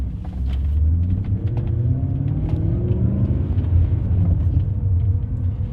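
A manual BMW E39 M5 pulls away in first gear with a deep, steady engine rumble that swells slightly as it gets moving, close and continuous with no talk.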